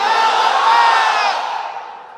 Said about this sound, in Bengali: এই কথার পক্ষে যারা, তারা তাকবীর দেন, লিল্লাহে তাকবীর